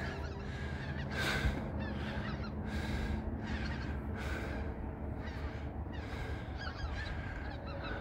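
A flock of honking birds resembling geese, heard outdoors near Pocahontas, Arkansas, calls in repeated loud bursts about once a second over steady background noise.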